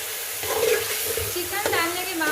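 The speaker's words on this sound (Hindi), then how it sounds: "अब हम इसमें बॉयल किया हुआ चिकन शामिल करेंगे।" Boiled chicken hits masala simmering in ghee, giving a continuous close sizzle with scraping and stirring of a spoon through the pot, steady and moderately loud.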